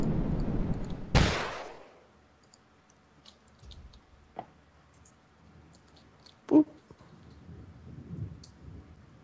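A rocket explosion blows off the corner of a house in the blocky shooter Blockstorm, a single loud, sharp blast with a rumbling tail, followed by quiet with a few faint clicks and thuds.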